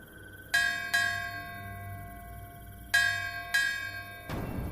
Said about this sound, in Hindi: गांव के मंदिर की घंटियां अपने आप बजने लगी